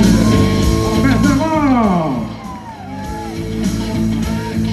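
A festival crowd at a night expo event in Pontes e Lacerda cheers loudly for the mayor, with shouts and whoops rising over a dense, sustained roar of voices and music that fades slightly midway.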